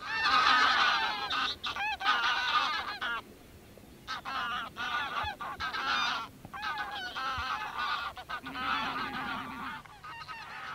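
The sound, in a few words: geese honking and goose calling while wildfowling on Orkney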